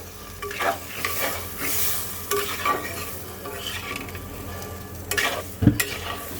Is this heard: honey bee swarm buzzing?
no